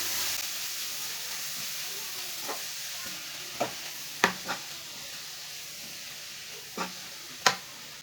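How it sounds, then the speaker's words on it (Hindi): Grated carrots frying in a pan over medium heat for carrot-and-rice gajrela, with a constant soft sizzle broken by several sharp scrapes and knocks of a spoon stirring at irregular intervals. "इसे 5 मिनट तक ऐसे ही चम्मच चलाते हुए भून लेंगे।"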